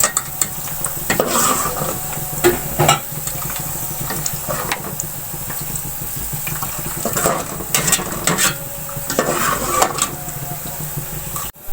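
Onions browning in cooking oil for an aloo gosht dish, a steady close sizzle with repeated stirring scrapes and clinks of a utensil in the pan, no talking.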